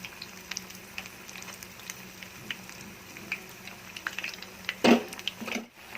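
Poornam burelu, sweet stuffed dumplings, frying in hot oil, a quiet steady sizzle and patter with a brief louder burst of crackling near the end, no talk.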